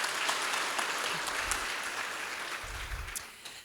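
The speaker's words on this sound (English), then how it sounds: "So a round of applause for the Billy Ireland team and university libraries." Audience applause for the Billy Ireland Cartoon Library & Museum team and university libraries at a reception and awards ceremony, an even patter of clapping that carries on steadily, with a few low thumps beneath, then tapers off at the end.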